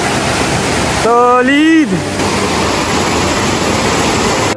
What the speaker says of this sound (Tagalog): At ito yung tinatawag nilang Bulawan Falls.